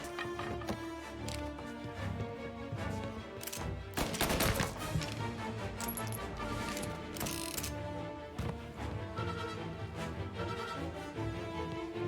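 Gunfire in the video game Mafia: Definitive Edition crackles in rapid bursts over a dense game soundtrack, with a sharp cluster of shots near the middle, fairly quiet overall.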